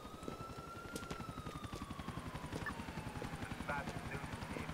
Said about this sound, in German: Der Heli nervt nur ein bisschen.